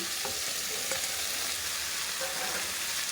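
Eggplant is dropped into a pan of onions and potatoes already frying, giving a steady, close, continuous sizzle and crackle of oil with a few soft stirring scrapes.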